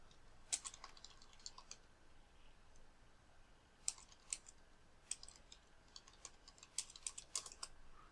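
Faint, close keystrokes on a computer keyboard come in short irregular bursts of rapid clicking, with brief pauses between runs and a quiet background.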